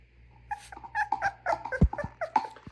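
A bully-breed puppy whimpers and yips close by during deworming, a string of short high whines and squeaks with snuffly breathing between them and no talking.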